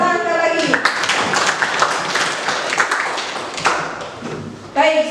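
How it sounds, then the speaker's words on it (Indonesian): Group applause from students in a classroom at the close of an economics lesson, a dense, steady wash of clapping lasting several seconds, with voices speaking at the start and end. "Tepuk tangan sekali lagi."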